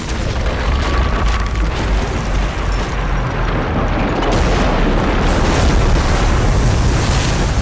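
In the racing video game Split Second, explosions tear apart the environment in a dense, continuous roar of booming blasts and crumbling debris, loud and unbroken for the whole stretch.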